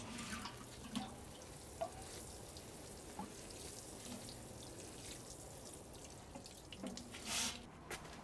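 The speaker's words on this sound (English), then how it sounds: "now we're going to water these seed trays" Water splashing and trickling steadily onto seed trays of freshly sown compost for tomatoes, basil and cosmos, a soft continuous pour with a few brief louder drips, no talking.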